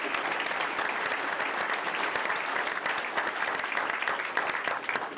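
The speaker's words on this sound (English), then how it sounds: "So let's give him a round of applause." Audience applause for choir singer Stephen Stewart, a Texas All-State Men's Choir selectee, dense steady clapping from a crowd sustained throughout, close and loud.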